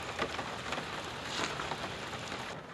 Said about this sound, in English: This is what it's like inside a car on a rainy day